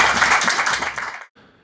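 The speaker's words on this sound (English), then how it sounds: "Please give them all a round of applause." An audience applauds an indie band at a Rochester music show, a dense, lively round of clapping that carries for just over a second before stopping abruptly, followed by a faint trace.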